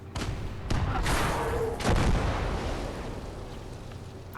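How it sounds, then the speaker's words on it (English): Tank cannon blasts in Gates of Hell: Ostfront, a couple of heavy booming shots fired into an enemy turret, each followed by a rumbling, decaying roar of battle noise, loud and close. "Another shot into the turret just for good measure."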